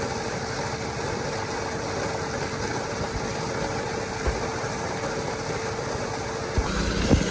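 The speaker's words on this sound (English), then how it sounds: "got the pump on idle right now" A pool pump engine idles steadily while a new pool liner is being stretched, a constant low mechanical hum and vibration running evenly throughout with a couple of brief knocks near the end.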